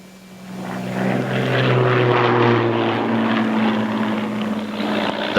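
Propeller biplanes pass overhead at an air display, a loud, steady droning engine roar that swells in and holds, with no talk over it.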